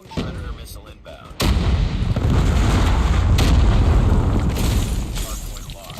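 Predator missile strike exploding in Call of Duty Mobile, a sudden loud blast followed by a sustained heavy rumbling boom that lingers and slowly fades over several seconds.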